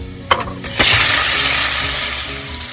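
Shrimp hit a hot pan of melted butter and garlic with a couple of clunks, then burst into a loud, steady sizzle that holds for the rest of the clip.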